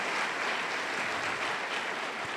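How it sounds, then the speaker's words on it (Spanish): A church congregation applauding during a sermon, dense uniform clapping from a large crowd that holds steady throughout without a break. "Den un aplauso a la gracia de Dios."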